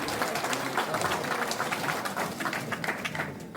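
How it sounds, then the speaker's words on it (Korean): A seated audience at a political briefing event in Suncheon applauds as dignitaries are introduced. Steady, moderately loud clapping from many hands continues throughout and fades slightly toward the end. "큰 박수 부탁드립니다"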